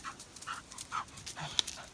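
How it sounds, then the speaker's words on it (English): A dog on a lead panting on a countryside walk near a farm with livestock, quick soft breaths in a steady rhythm, close by and moderately quiet, with a faint whimper-like note. "Got the dog on the lead because there's livestock around."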